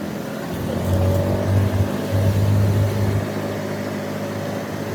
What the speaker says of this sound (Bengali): আর যেটা পিছনে আওয়াজ হচ্ছে ওটা যে সৌরভ বাইকটা স্টার্ট দিচ্ছে,